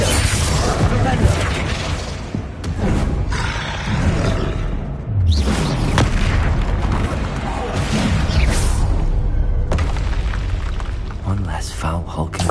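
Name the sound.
spell blasts and explosions in Hogwarts Legacy video game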